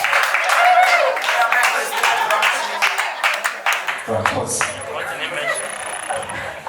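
A comedy-night audience applauds a comedian with a dense burst of clapping that gradually thins out, and then a voice begins speaking.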